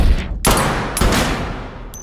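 Gunfire from an action film about former special forces soldiers: two loud, close shot bursts roughly half a second apart, each fading into an echoing tail, with a faint third crack near the end.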